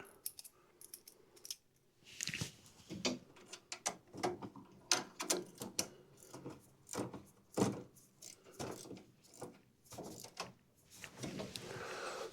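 A ratchet tightens the choke cable on a riding mower, making quiet, irregular clicks and mechanical ticks close by, with no one talking.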